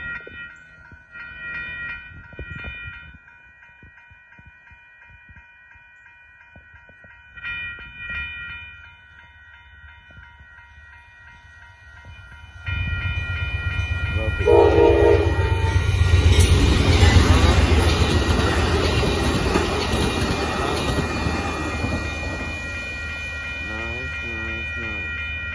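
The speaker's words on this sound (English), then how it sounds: "So here comes Amtrak." A northbound Amtrak Texas Eagle passenger train at Dittmar Road in Austin, Texas: a few horn blasts sound at a distance early on, then a loud, sustained roar and rumble of the train passing close by.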